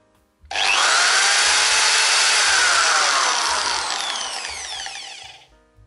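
A Ferrex 610W impact drill from Aldi runs at its lowest speed setting, giving a loud, close, steady whirring whine that starts abruptly, holds for about five seconds and eases slightly before stopping.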